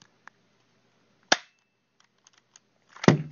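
A custom gold Duke Nukem airsoft pistol gives a sharp cocking click, then a single snappy shot, with a few small handling taps in a quiet room.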